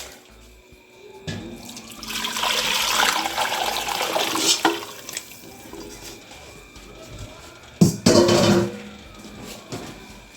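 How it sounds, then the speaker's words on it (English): Birria cooking liquid poured back into a pot, a steady splashing pour running for a few seconds, then a second short burst of pouring, close and fairly loud. "we're going to pour our liquid back in"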